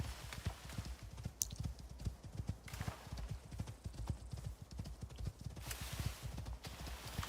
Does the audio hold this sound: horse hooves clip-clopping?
yes